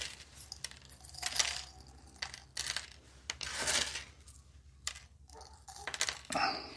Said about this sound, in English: And snip it up like so.